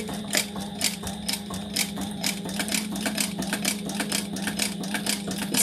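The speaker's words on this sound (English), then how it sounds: "Now I'm going to try my best to go right in my previous top stitching." A sewing machine does top stitching with a steady motor hum and a quick, regular chatter of needle strikes, close and moderately loud throughout.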